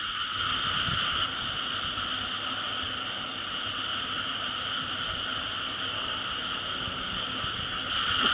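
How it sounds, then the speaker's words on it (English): A dense chorus of frogs croaking on a dark roadside at night under a street light, a continuous pulsing trill of many voices at moderate distance, steady throughout with no talking. "Can you hear the frogs?"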